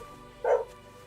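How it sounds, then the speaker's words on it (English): A neighbour's dog outside gives a single short, muffled bark at a moderate distance, set against a quiet indoor background. "the dog outside is my neighbor's dog"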